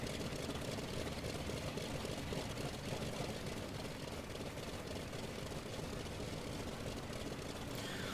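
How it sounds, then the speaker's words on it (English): The engine of an Aircraft Factory F4U-1A Corsair warms up at idle in Flight Simulator X, giving a steady, dense, rumbling drone that holds at an even level throughout with no talk over it. "Just a minute or two more for the warm-up of the engine."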